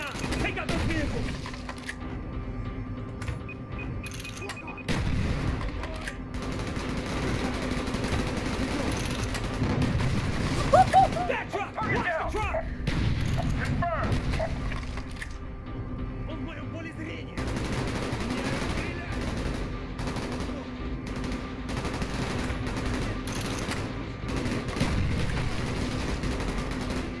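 Repeated gunfire bursts and machine-gun rattle crackle through a Call of Duty: Black Ops battle, mixed with rumbling combat noise, while voices talk intermittently.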